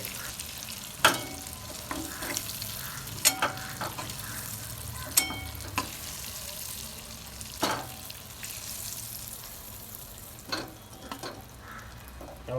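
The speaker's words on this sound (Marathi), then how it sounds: "वांगे मस्तपैकी फ्राय व्हायला लागलेत" Brinjals frying in oil in a pan, a soft steady sizzle with occasional louder clinks and scrapes of stirring, fairly quiet.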